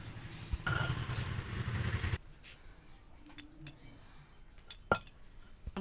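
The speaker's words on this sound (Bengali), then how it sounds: "এই যে পাতাগুলো একটা পাত্রে রেখে আমি এবার জালগুলো বেটে নেব।" Green chilies ground by hand for a kohlrabi-leaf mash: a dense, rough grinding scrape for about a second and a half, then quieter scattered clinks and knocks, close by and without talk.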